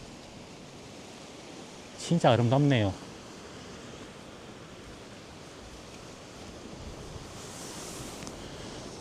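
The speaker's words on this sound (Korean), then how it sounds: "이 파도 소리가 제 귓가를 지금 맴돌고 있습니다." Sea waves wash steadily below coastal cliffs on a windy shore, a broad continuous surf roar throughout, with a person briefly speaking over it near the start.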